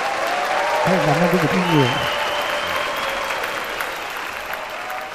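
Audience applause for a singer at the final of the TV singing show Ca Sĩ Giấu Mặt, a steady wash of clapping that runs throughout while a host's voice speaks briefly over it.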